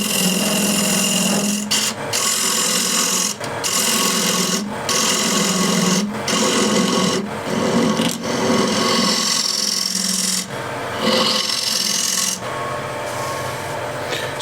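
A lathe tool scrapes an uneven, not-flat top of a wooden bowl, producing a loud rasping, vibrating chatter in repeated sustained passes separated by short breaks.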